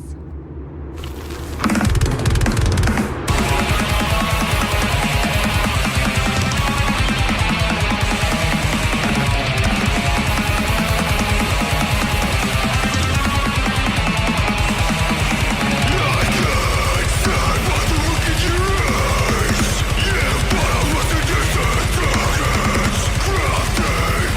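Heavy, distorted death metal/hardcore band music pounds on loudly and continuously after a brief quiet start, dense guitars and drums with rough, growled vocals.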